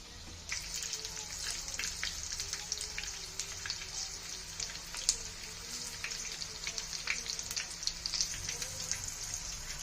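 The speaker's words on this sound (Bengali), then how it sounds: "এবার আমি এগুলোকে একটু উল্টে পাল্টে ভালো করে ভেজে নেব" Pieces of food frying in a pan at home, a steady soft crackle of sizzling oil with scattered pops, close by and continuous with no talking.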